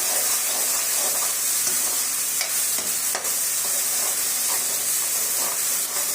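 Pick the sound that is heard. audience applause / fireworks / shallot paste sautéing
shallot paste sautéing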